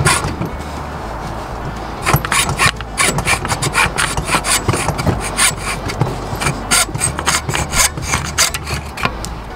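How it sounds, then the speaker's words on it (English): A hand saw cuts a 45-degree notch into an oak dowel for a wooden whistle, rasping in quick, loud back-and-forth strokes close by after a brief start. "we're gonna cut straight down into that, making a 45 notch."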